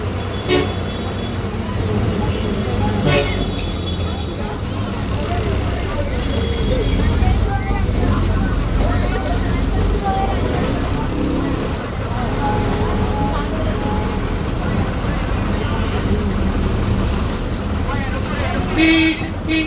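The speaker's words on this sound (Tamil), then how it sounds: "ஃபுல்லாகவே எலக்ட்ரிக் ஹாரன் தான் யூஸ் பண்ணியிருப்பாங்க." Electric horn of a KSRTC government bus on a monsoon run from Pollachi to Palakkad, sounding several short toots amid steady engine and traffic rumble, with voices talking throughout.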